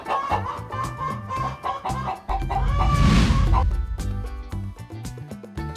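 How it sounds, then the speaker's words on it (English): A chicken clucks in quick, loud bursts up close, its clucking rising into a longer, louder squawking call midway before settling back into clucks. "That's a chicken!"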